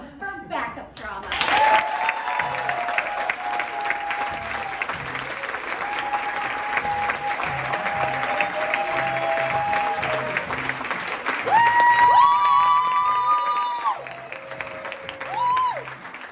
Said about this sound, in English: please give a real big round of applause for Backup Drama